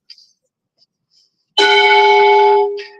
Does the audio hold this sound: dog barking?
no